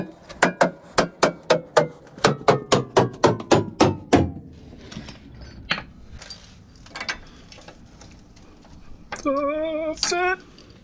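A quick series of about a dozen sharp metallic hammer strikes on a vehicle track bar bracket, evenly paced, followed by quieter clanks and a short ringing scrape.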